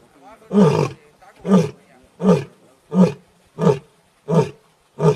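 A Gir lion roars in a slow, steady series of seven deep, powerful grunting calls, each about a second long and evenly spaced, loud and close.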